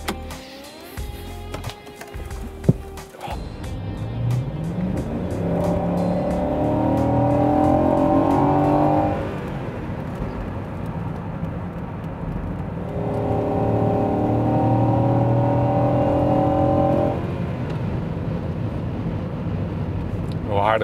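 A Volvo XC90 with 374,000 km on it accelerates hard, its engine rising in two long, loud surges of revving with a brief easing between them, and a voice speaks near the start.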